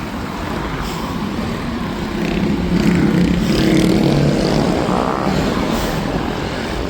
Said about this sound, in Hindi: बाइकों की आवाज